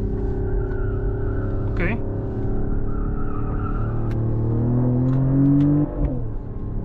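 A 2025 Mercedes GLE 53 AMG hybrid coupe engine drones and rises through gear changes on twisty roads, swelling to a strong rev near the end, with a brief spoken word over it.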